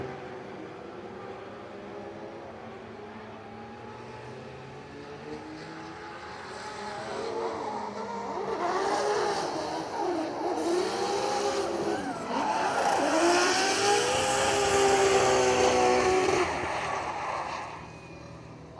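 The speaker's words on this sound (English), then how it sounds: "listen to those engines rev through that long sweeper corner because they are keeping it absolutely pinned" Drift cars at a Drift Masters practice session in Finland rev hard and hold full throttle through a long sweeper corner, engines wailing and rising in pitch with tyre squeal, growing louder as they pass close by.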